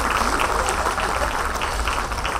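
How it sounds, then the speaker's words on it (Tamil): An audience at a panel discussion event in Madurai breaks into applause, a brief, dense burst of clapping that holds steady throughout. "அதுக்கு ஒரு பெரிய கைத்தட்டல் கொடுக்கலாம்."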